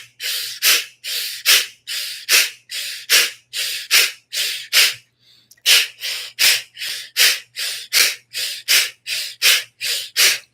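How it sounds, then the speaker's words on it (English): Fast, forceful rhythmic breathing in a meditation session, about twenty sharp evenly spaced breaths close to the mic, with a brief pause midway before the pumping rhythm resumes, no talk. "maybe go a little faster, more Shakti, more power in the breath"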